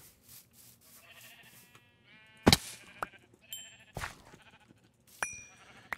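Sheep in the Minecraft video game bleating in short repeated calls, mixed with sharp game hit and pop effects, fairly quiet with no talking.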